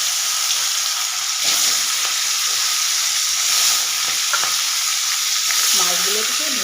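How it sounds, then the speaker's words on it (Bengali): Fish pieces coated in turmeric and salt fry in hot oil in a wok, giving off a loud, constant hissing sizzle with occasional soft clinks and stirring sounds. "দেখুন বন্ধুরা, তেলটা হয়ে গেছে, এবার মাছগুলো কড়াইতে দিয়ে দেবো।"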